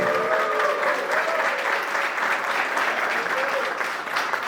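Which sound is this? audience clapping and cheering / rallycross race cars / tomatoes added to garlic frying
audience clapping and cheering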